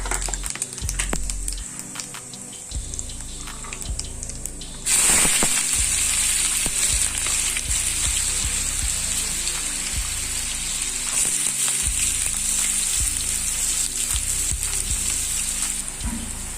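Chopped onion sizzles loudly in hot oil with crackled cumin seeds, the frying jumping up in volume partway through after a quieter start, with occasional stirring scrapes and no talk.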